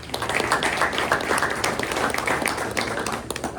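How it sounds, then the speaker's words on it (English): Steady round of applause from a press luncheon audience for its sponsors, dense overlapping claps at moderate level from a roomful of people, with no talking. "Let's give them a round of applause."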